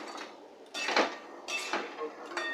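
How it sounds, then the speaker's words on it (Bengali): Jackfruit fritters go into spiced masala in a pan, with a few clattering knocks and scrapes of utensil against the pan and a low background hiss, close by and fairly quiet. "এবার আমি এর মধ্যে দিয়ে দেবো বড়াগুলো"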